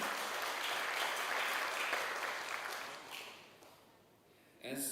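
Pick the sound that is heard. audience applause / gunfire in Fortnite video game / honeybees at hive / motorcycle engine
audience applause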